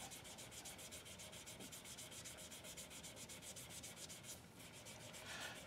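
Hand sanding of a resin brush handle at 320 grit makes a steady, rhythmic back-and-forth rasp of fairly even strokes, close and faint, continuing throughout with no talking.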